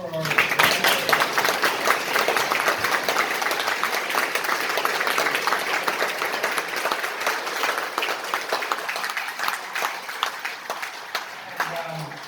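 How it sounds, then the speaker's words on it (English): A conference audience applauds with dense, sustained clapping from many hands that gradually thins toward the end, with a voice starting to speak as it dies away. "let's have a round of applause for our."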